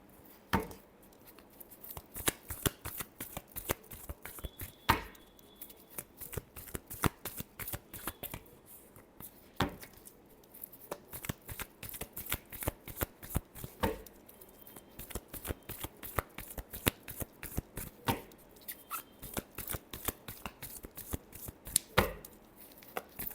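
Tarot cards shuffled by hand in a long run of rapid, crisp riffling flutters with brief pauses, close and fairly quiet, no talk.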